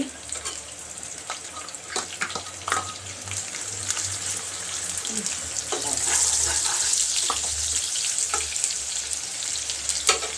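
Onion and green chili sizzle steadily in hot oil in a kadai on the stove, with crackling and occasional stirring, loud and close.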